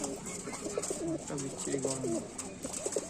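Kaldom pigeons coo in repeated, soft, rolling calls at close range over a steady background hiss.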